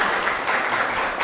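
An audience at a history lecture in Warsaw gives a short burst of dense, steady applause. The clapping is full and even across the moment, with no voices over it.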